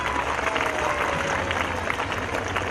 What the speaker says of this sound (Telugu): ఒక మంచి కార్యక్రమానికి శ్రీకారం చుట్టిన కోనప్ప గారిని గట్టిగా చప్పట్లతో మీరు అభినందించవలసిన అవసరం ఉంది.